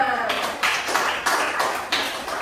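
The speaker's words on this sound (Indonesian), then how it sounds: "kita tepuk tangan untuk semua" A school class claps hands together in a classroom, bursts of clapping rising and falling over a couple of seconds with voices mixed in.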